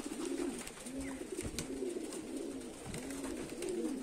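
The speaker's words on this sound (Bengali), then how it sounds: "এই যে কবুতর গুলা নামানোর পরই আরেকটা কবুতর চলে আসলো" Giribaz racing pigeons cooing at a 14 km pigeon toss, soft repeated throaty coos in a steady rhythm, fairly quiet and close, over a faint background hiss with no talk.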